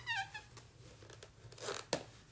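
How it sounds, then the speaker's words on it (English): The stuck zipper on the soft case holding a singing bowl is tugged and forced, giving quiet scratchy rasps and crinkles, with a few short sharper pulls, close and faint. "This thing that my singing bowl lives in, the zipper gets stuck."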